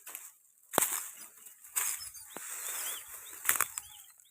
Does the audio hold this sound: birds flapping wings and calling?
yes